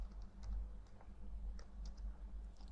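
Typing on a computer keyboard, scattered soft key clicks at an uneven pace, faint and close over a low room hum.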